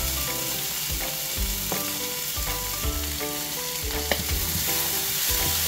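Onion sautéing in a pan for a Filipino mung bean and cabbage dish, a steady close sizzle and frying hiss with occasional stirring clatter, no talking.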